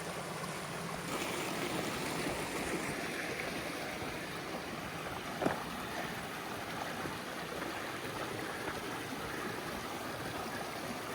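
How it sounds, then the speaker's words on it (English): Whitewater Creek, running milky white along a hiking trail, rushes in a steady, dense roar close by, with one brief splash partway through and no voices. "this is called Whitewater Creek"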